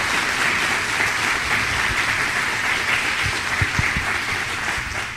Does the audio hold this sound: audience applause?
yes